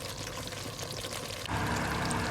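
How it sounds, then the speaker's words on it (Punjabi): Water poured from a glass into a cooking pot of aloo gosht (potato and mutton curry), a steady close splashing pour that grows fuller and louder partway through, with no talk. "ਫਿਰ ਮੈਂ ਇਹਦੇ 'ਚ ਪਾਣੀ ਡਾਲ ਦਿਆਂ"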